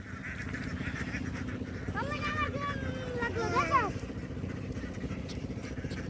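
Ducks by a river honk and quack a few times in the middle, fairly near, under and between people talking, with steady outdoor background noise.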